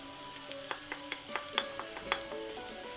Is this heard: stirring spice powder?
yes